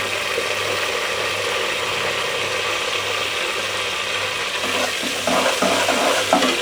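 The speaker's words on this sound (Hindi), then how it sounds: "तो अब मैं इसमें डालती हूँ ये लहसुन चॉप किया हुआ।" Chopped garlic frying with onions in a pan for rajma curry, a loud, dense, continuous sizzle with rhythmic scraping as a spoon stirs, close up and without any talking.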